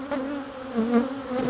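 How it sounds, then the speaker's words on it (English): Angry honey bees buzzing close around a beekeeper's hood during requeening of a defensive hive, a dense wavering drone with rising and falling pitch, loud and near, no voices. "at all these bees on my hood."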